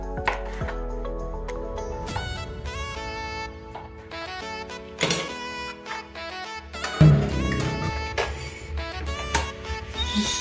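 A knife chops boiled tripe into cubes on a board, a series of sharp irregular cutting knocks and clicks, close and clear, with no voices.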